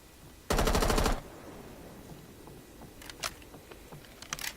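Automatic gunfire fired into the air in Rainbow Six: a dense, loud burst of rapid shots lasting about half a second, followed by quieter scattered clicks and small in-game noises.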